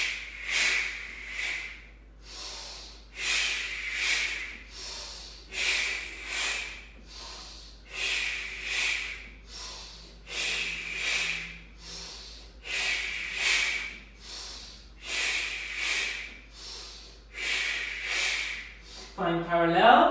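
Forceful breathing during a towel-and-mat exercise class: a steady series of about a dozen strong, hissy exhales in an even rhythm, each roughly a second long with short gaps, close and loud, ending with a brief vocal sound.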